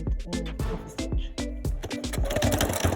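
A home sewing machine top stitching an African print jacket, a close rhythmic run of rapid needle thumps with a low motor hum, speeding up toward the end.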